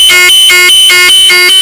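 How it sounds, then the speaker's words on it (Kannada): A loud electric trumpet horn for two- and four-wheelers blares in five quick, evenly spaced, bright, buzzy honks, close and alone. "ಸರ್ ಇದು ಟ್ರಂಪೆಟ್ ಹಾರನ್ನು 2 ವೀಲರ್ಗೆ ಮತ್ತೆ 4 ವೀಲರ್ಗೆ ಎರಡೂ ಆಗುತ್ತೆ ಸರ್."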